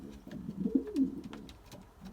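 Pigeons in a loft with big reds and racing pigeons coo softly and repeatedly, low throaty calls close by, with faint scuffling in the background and no talk.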